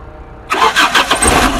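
A petrol car engine cranks with a few quick pulsing turns and then fires up, loud and close, after a short silence.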